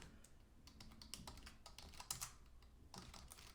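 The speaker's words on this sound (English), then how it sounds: "Just mashing my keyboard." A computer keyboard is mashed at random, keys clattering in fast irregular bursts of clicks and thumps, close and fairly quiet, with brief pauses between flurries and no talking.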